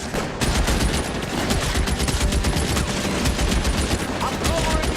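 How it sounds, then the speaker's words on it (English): Sustained machine gun fire during a shootout in LA Noire, a loud unbroken stream of rapid shots filling the whole stretch without a pause. "Okay, I see where the machine gun's at."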